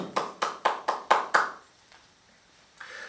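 Congregation at a worship service claps in praise to God: six sharp, evenly spaced claps in unison, then near silence before a faint murmur returns.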